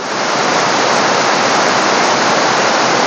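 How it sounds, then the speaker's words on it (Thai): Pha Kluai Mai waterfall in Khao Yai National Park roars loud and close, a dense, constant wash of falling water with no voices over it. "ตอนนี้เราอยู่ที่ น้ำตกขาก้วยไม้นะครับ อุทยานแห่งชาติเขาใหญ่"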